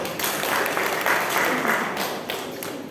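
A congregation claps together at a Christmas service at a Pentecostal church in Kediri. Dense, steady applause fills the room at full strength from start to finish, with no pauses.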